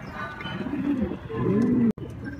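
Racing pigeons coo softly inside their loft, overlapping low throaty calls repeating through steady background murmur, fairly close, ending with a brief sharp click, no talk.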